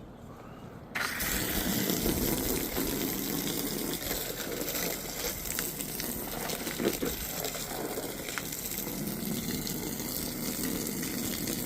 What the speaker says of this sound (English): this is just water just to flush it for right now